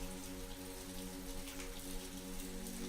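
Steady rain falling with a soft, constant patter of drops, quiet and continuous, over a low sustained musical drone.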